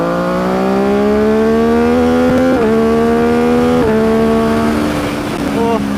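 A second-hand MV Agusta F motorcycle engine revs loud and close during a test ride, its pitch climbing steadily with brief dips at each throttle change before rising again, a harsh, dominant mechanical whine.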